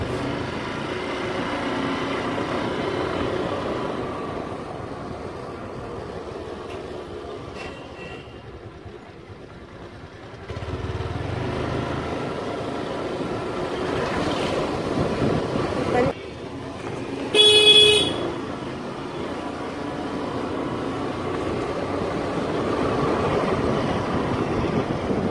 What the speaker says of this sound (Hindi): आवाज का भी इशू आ रहा रहेगा क्योंकि ये स्कूटी चला रहा हूँ ना बाइक पे